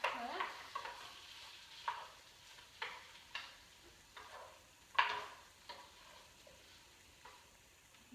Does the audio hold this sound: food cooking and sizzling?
yes